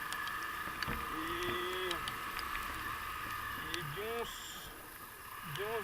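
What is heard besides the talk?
Honda CB Twister motorcycle engine noise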